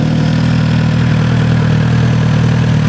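A Kawasaki Z900 RS motorcycle engine idles steadily up close, a loud, even low burble with a constant pulsing rhythm and no voices.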